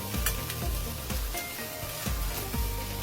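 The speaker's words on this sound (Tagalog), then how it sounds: "Saka na ito patuloy na igisa ng ilang minuto." Duck pieces sauté with onions and bird's-eye chilies in a hot pan, a steady, close sizzle and crackle broken by regular scraping thumps as the food is stirred, with no talking.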